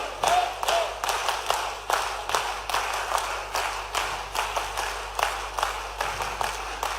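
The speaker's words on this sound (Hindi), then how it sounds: "और ताली हरदा वाली बजना चाहिए" Rally crowd clapping in the Harda-style beat, a repeated one-two, one-two-three pattern, keeps an even pulse of sharp group claps from start to finish with little else heard.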